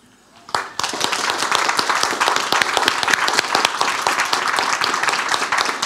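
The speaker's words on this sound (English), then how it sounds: "I trust each of you will give them a round of applause when I call out their names" An audience at a Garda passing-out ceremony breaks into sustained applause for a scholarship recipient, dense clapping that starts abruptly and stays loud and steady throughout, with no speech over it.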